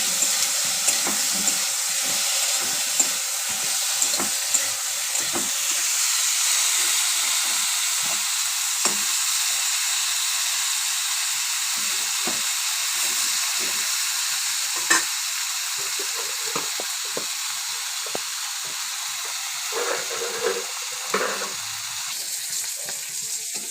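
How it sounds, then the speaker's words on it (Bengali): Green beans frying in a pan, a continuous bright hiss of oil with scattered pops and the scrape of stirring, steady and close for the whole stretch with no talking. "এই এখানে শিমগুলো ভাজা হয়ে গেছে"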